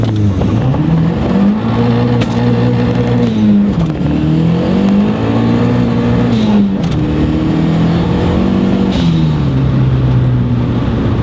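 A turbocharged Honda CRX accelerates hard at full throttle, its engine loud and close as it winds up through several gears, with brief dips at each shift and no talking.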